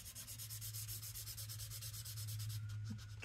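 Pencil rubbed steadily across paper to smooth and blend shading, a continuous close scratchy swish with rhythmic back-and-forth strokes and no talk.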